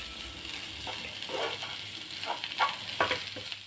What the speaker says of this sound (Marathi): आता यात आपण घालून घेऊया बारीक चिरलेली कोथिंबीर आणि पुन्हा एकदा हे सगळे एकत्र करून घेऊया।